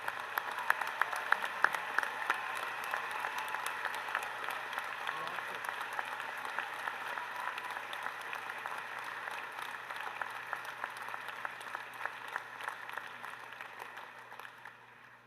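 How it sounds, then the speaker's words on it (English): Convocation audience applauding graduates, a dense, sustained wash of clapping from a large hall crowd that holds steady and slowly tapers toward the end. "let's pause and applaud those that have just recently crossed"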